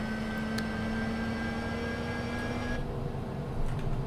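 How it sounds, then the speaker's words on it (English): Twin jet engines of a CJ business jet idle steadily in a flight simulator game, a continuous close whine and rumble with a sustained tone that shifts slightly partway through. "Go ahead and bring up the volume on my speakers to hear those engines."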